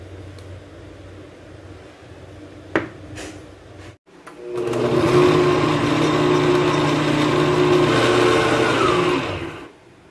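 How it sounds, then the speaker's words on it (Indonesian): A blender whirs loudly and steadily for several seconds blending sugar, vanilla, oil and date paste, after a couple of brief clicks and knocks, then cuts off. "Lalu ini di blender ya."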